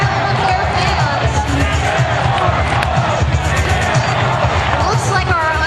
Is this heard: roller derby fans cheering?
yes